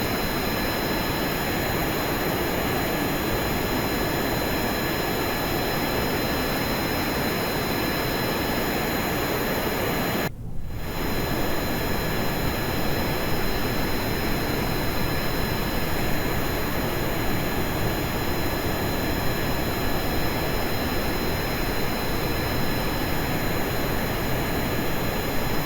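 Constant, loud jet engine roar from an aircraft in the space-flight game Kerbal Space Program, a dense unbroken hiss with faint high whines and a single brief dropout partway through.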